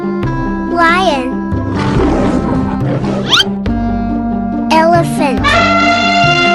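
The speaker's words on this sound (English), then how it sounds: "Lion." A cartoon lion gives a loud roar over bright, bouncy children's music, surrounded by other animal calls in a playful animated setting.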